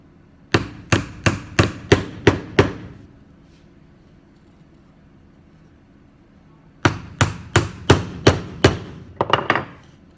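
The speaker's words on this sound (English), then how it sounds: "Hold it in place as I nail it down." A hammer drives nails into a wooden egg car chassis in two quick bursts of about seven sharp, evenly spaced blows each, separated by a pause of near silence, loud and close.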